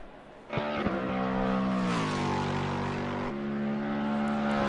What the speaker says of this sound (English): the number 28 of Nicolo is passing that pit wall